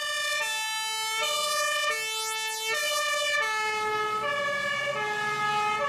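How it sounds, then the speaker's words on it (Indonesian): A yellow toy fire truck siren plays an electronic, beeping tone that steps up and down in a repeating pattern, loud and close with no talking. "Wadidaw, ada pemadam kebakaran."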